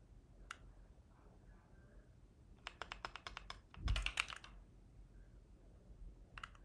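Computer keyboard typing at a desk during a live coding stream, with a quick burst of close key clicks midway, then a single louder thump and a few scattered taps.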